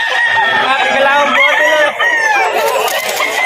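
Several roosters crow loudly and close, overlapping one another, with clucking hens mixed in.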